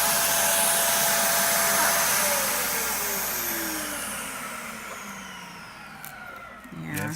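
A Dust Daddy bird dust cleaner runs with a loud, steady vacuum-like whoosh and whine that fades gradually before a brief stutter near the end.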